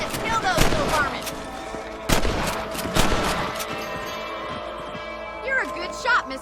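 Gunshots at rabbits in Red Dead Redemption on Xbox 360, several sharp reports spaced out over a few seconds with open-air echo, mixed with voices and small animal or game sounds between shots.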